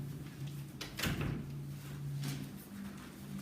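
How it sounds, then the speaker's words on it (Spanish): A door is pulled shut indoors, a single muffled thud partway through over a steady low hum, with a fainter bump later and no talk. "Me cerré esta puerta."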